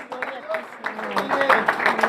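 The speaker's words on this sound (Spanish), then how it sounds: "Si le vas a dar un aplauso, dáselo fuerte." A church congregation claps in uneven bursts that swell toward the end, with raised voices calling out over the clapping.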